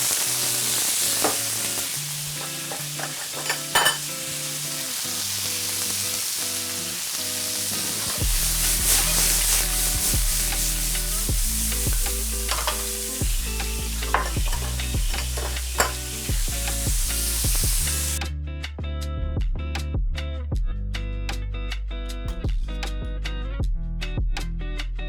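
Onions and peas sizzle steadily in a frying pan while a utensil stirs them, scraping and clicking repeatedly over the continuous frying hiss, close and unbroken.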